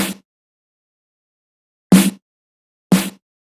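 Three short, punchy snare drum hits processed with a dynamic EQ, attack adjusted, with silence between them, dry and close, the first clipped at the start.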